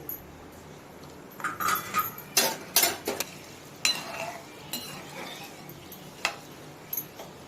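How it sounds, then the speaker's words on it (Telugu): Dried lentils, red chillies and garlic frying in hot oil for a tempering while being stirred in a pan, with scattered utensil clinks and scrapes and a faint sizzle, moderately close and without talk. "అన్నీ వేసుకొని వేయించుకోవాలి ఆయిల్లో వేసి ఇవి బాగా దూరగా వేగాలి"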